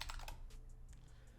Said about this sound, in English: we're just going to type in Dicker real quick.